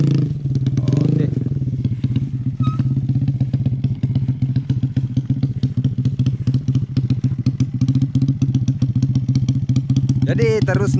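Motorcycle ridden on a road in Soppeng, South Sulawesi, its engine running steadily and loud throughout with a rhythmic rumble, a brief rising rev near the end, and some talk over it.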